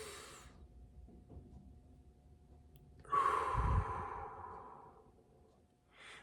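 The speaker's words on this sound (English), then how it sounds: "what really helps me is just breathing techniques, so like box breathing" A slow, deep breath from box breathing, a long soft exhale swelling then fading, close and quiet, with faint breathy sound at the start and end and no talk.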